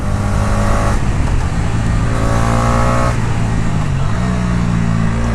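A Bajaj Dominar 250 motorcycle engine drones steadily while riding, loud and close, with a sustained hum whose pitch shifts slightly as the revs change, accompanied by wind noise.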